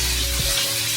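Fish frying in a pan gives a dense, steady sizzle, loud and close, with a brief low thump near the start and no voices.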